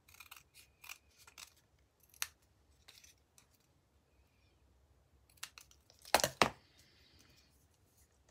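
Scissors trim leftover paper scraps for a scrapbooking layout in a series of short, crisp snips, separated by pauses, with a louder cluster of cuts near the end in an otherwise quiet room.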